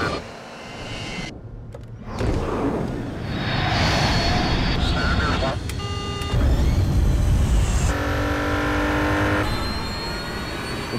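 A BMW 5 Series car drives past, a steady broadband engine and road rush swelling and holding loud, with passing whooshes, and a voice talks over it.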